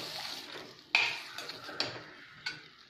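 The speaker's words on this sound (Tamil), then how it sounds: "இப்போ நல்லா வதக்கி எடுத்துக்கலாம்." A spoon or spatula stirs potatoes frying in a pan, giving several sharp clinks and scrapes at uneven intervals over a faint, steady sizzle.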